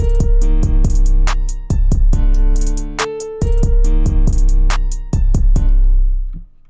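Trap beat built in FL Studio 20, a booming 808 bass hitting in step with the kick pattern under hi-hats and a melody, loud and steady, with the 808 notes clashing off-key against the tune; no talking.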